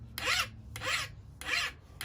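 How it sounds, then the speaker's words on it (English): A hand file sharpening a .404 semi chisel chainsaw chain in a jig, three and a half close, rasping strokes in a steady rhythm with brief pauses between them. "file it down, spin it over, file it down, spin it over, all one way. You'll get a noise."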